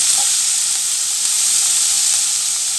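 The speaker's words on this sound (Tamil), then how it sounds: "இப்போ இது நல்லாவே வதங்கி வரட்டும்." Small onions (shallots) sauté in a pan with a steady, loud, close hiss of sizzling oil running evenly throughout, without speech.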